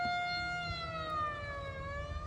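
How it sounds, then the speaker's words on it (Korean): A siren wails with a slowly falling harmonic tone over a low rumble, heard briefly and at moderate distance on a golf course in Malaysia, warning of lightning. "사이렌 사이렌"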